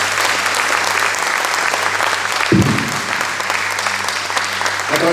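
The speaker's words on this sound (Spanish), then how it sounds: "Dale un aplauso a la iglesia." Sustained applause from a church congregation at a Catholic gathering fills the room steadily and loudly, with a brief dip midway before the clapping continues evenly.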